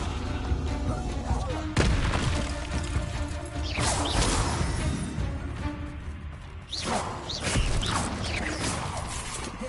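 Fiery Confringo spell blasts in Hogwarts Legacy land as repeated booming explosions with crashes and whooshes, loud and dense over a busy game soundscape.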